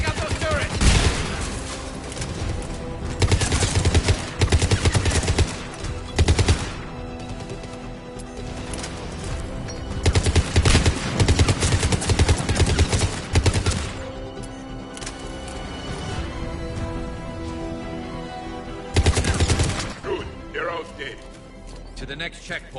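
Turret fire and gunfire from the Mass Effect video game come in repeated loud bursts of rapid shots, with character voices talking over the combat between volleys.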